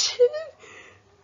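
A single close, sharp sneeze from a young girl with a cold, a quick inhaled build-up and then a burst, followed by a faint trailing breath.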